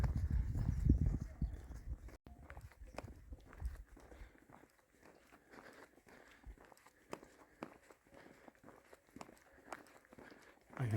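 Horses walking outdoors along the Camino de Santiago path toward Roncevaux, hooves clip-clopping faintly in the distance under a brief burst of wind and someone talking.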